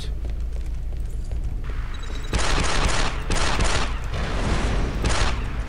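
Gunfire in the Star Wars shooter Republic Commando: loud bursts of automatic blaster fire in several sustained volleys over a low rumbling background, with no talk.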